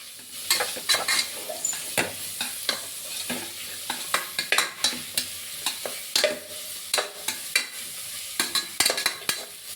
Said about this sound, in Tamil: பொன்னிறமாக அந்த வெங்காயம் நல்லா வதங்கணும்